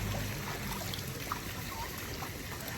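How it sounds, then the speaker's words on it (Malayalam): Water poured steadily into a container on a seaside trip at Varkala, a continuous soft trickle and splash running the whole time, fairly close and alone with no voices. "വെള്ളം നിറയ്ക്കോട്ടാ."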